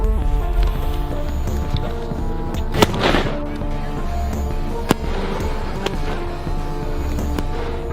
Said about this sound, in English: Oh, it's fireworks.